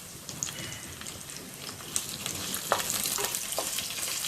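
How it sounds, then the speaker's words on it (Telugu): Mustard seeds, cumin and dried chili pieces frying in hot oil for a drumstick dal tempering, a steady close sizzle with scattered sharp pops and crackles growing denser toward the end. "ఆవాలు, జీలకర్ర, ఎండుమిరపకాయ ముక్కలను వేసుకొని వేయించుకోవాలి."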